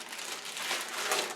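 Plastic vacuum storage bags with zip-top closures crinkle and rustle softly in a continuous, irregular scrunching, quiet and close, with no voices.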